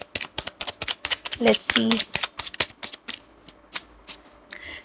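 Tarot cards shuffled and handled in quick, crisp flicks and riffles, a dense run of close clicking snaps with brief pauses, while a person speaks briefly in the middle.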